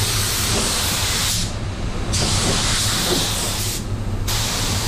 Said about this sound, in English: sometimes you just spray in there and then hope for the best